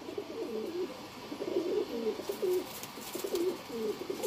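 Deobandi pigeons coo in a steady, low murmur of repeated soft calls, moderately close, with faint background noise and no talking.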